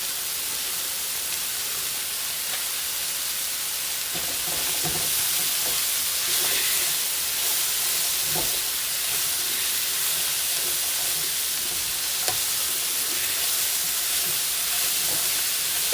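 Chopped onion frying in a pan for traditional beef stroganoff, a steady broad sizzle and hiss holding level throughout with faint occasional stirring clinks underneath.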